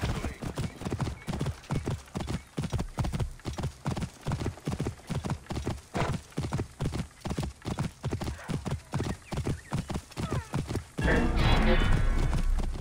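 A horse in the Assassin's Creed Origins video game clip-clops along in a steady, rhythmic trot. Near the end the hoofbeats give way to a louder splash as it enters the water.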